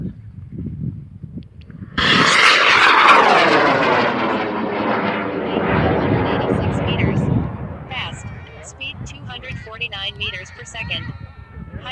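An Aerotech M1350 rocket motor ignites on a level 3 certification flight with a sudden loud, rushing roar that tapers over several seconds and fades into distant crackling as it climbs away.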